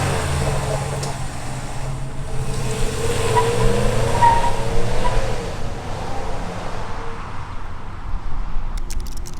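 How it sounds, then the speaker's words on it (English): A 2020 RAM 1500 Laramie pickup's engine runs close by on a hot day, its low rumble swelling into a rev around the middle before settling back to idle, with no talking over it. "Let's take a rev real quickly"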